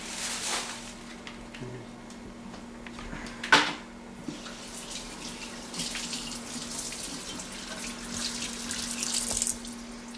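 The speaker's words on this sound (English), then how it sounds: "I'm going to rinse them in cold water and kind of just dry them a little bit." Cold tap water running over orange roughy fillets at a kitchen sink, a steady hiss of flowing water with a single clunk partway through, close and moderately quiet.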